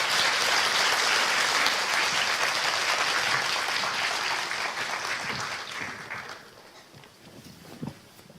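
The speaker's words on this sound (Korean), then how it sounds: "두 분을 큰 박수로 맞이해 주세요." Sustained, dense applause from an audience greeting two singers at a book celebration event, loud and steady before tapering off into scattered claps.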